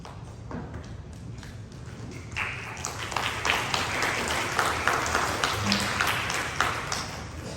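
Audience clapping in a church fellowship hall, a few scattered claps at first that swell after a couple of seconds into steady, fairly close applause that continues to the end.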